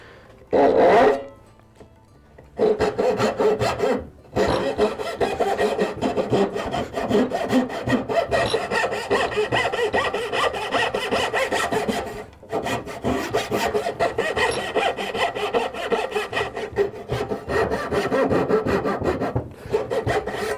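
A hand saw cuts dovetail tails in wood for a splayed stool, with steady rhythmic rasping strokes, heard close and loud, that stop briefly twice before resuming.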